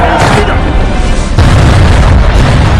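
A loud, close cannon blast from a warship at close range booms and rumbles, followed by a second heavy thud, with a voice talking over the roar.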